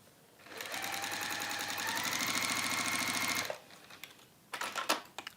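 A sewing machine runs in one steady, close burst of rapid stitching through a waxed fabric warmer for about three seconds. It stops, and then a few brief handling clicks and rustles follow.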